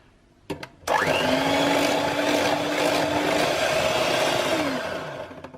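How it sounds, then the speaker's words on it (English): An electric whisk whips cream for a summer dessert. After a couple of sharp clicks it starts abruptly into a loud, steady motor whine with a rising pitch, runs for several seconds and then winds down. No one speaks. "But first let's whisk up our cream."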